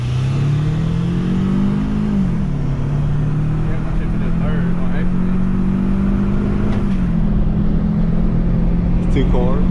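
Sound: Toyota Camry accelerating at full throttle in a race

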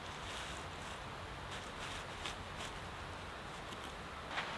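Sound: breeze, wind

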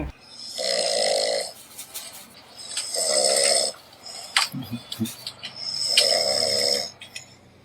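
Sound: imitation of a person snoring

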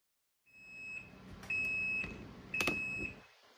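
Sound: washing machine cycle-end beeps

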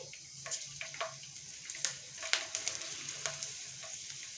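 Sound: panch phoron, bay leaves and chopped garlic frying in oil

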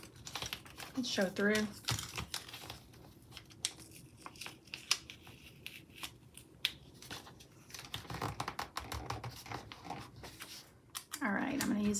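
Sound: cutting a planner sticker sheet

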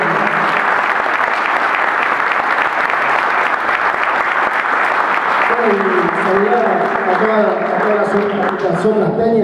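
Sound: crowd applause for General Belgrano fans

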